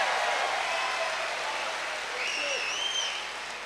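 An audience applauds at a Hindi poetry recital, a dense, steady wash of many hands clapping that holds the whole time and fades slightly at the end, with a faint voice under it.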